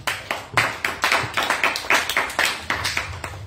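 A church congregation claps in praise of Jesus, a strong, regular rhythm of sharp, close claps at about three per second, with no voices over it.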